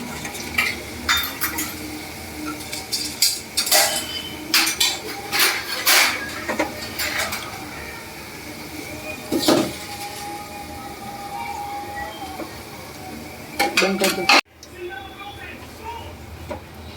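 Fried golden-brown potatoes for dum aloo being lifted from a hot oil pan onto a plate: scraping, clinking utensil-on-pan sounds over steady sizzling, close and busy, ending with a sharp clank before quieter frying.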